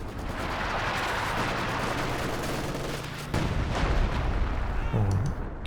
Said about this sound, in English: the howitzer from borobadger has now got up to 19 kills